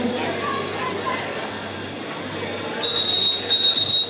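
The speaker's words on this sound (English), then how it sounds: "And we got a whistle." A referee's whistle starts a jam at a women's flat track roller derby bout. It sounds as one sustained shrill blast, loud and steady, over the constant murmur of an arena crowd.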